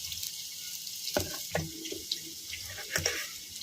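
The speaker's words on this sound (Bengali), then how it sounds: "সব গুঁড়ো মশলাগুলো আমি ভিজিয়ে দিলাম জল দিয়ে" Water trickles and splashes into a bowl of ground spices, chilli powder and cumin, to soak them, a close, uneven pour with a few small drips.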